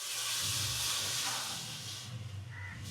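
A pressure cooker on a home kitchen stove with snake gourd inside gives off a steady, loud broadband hiss of escaping steam, continuous and close, easing slightly near the end with some low background rumble.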